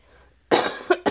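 A single harsh cough bursts out after a quiet moment, followed by two shorter, sharper coughs close to the mic.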